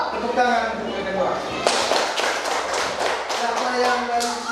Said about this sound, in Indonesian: Ya. Tepuk tangan untuk yang kedua.